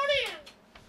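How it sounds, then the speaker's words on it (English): A house cat gives a single close, clear meow wanting to be let into a room, its pitch sliding downward, followed by a couple of faint soft sounds. "I gotta go let the friggin' cat in the room again!"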